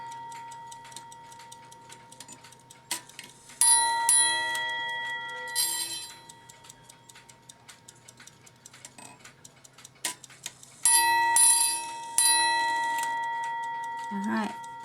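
A Seth Thomas ship's bell clock with a Hermle movement, model 132-071, strikes its bell in two loud pairs of chimes that ring out and decay, over a steady ticking, with a voice speaking between strikes.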